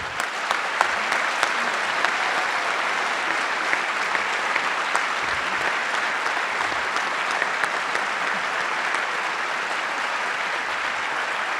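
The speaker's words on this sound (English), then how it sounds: "you've already done it with your applause" Sustained audience applause at a live public radio event on stage, a broad steady patter of many hands held at an even, moderate level throughout with no voices on top.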